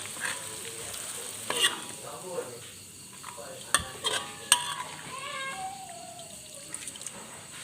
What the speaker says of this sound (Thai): น้ำมันเริ่มเดือดใส่ตะไคร้ลงไปเลยค่ะ เอาลงไปทอดให้เหลืองสวยเลยค่ะ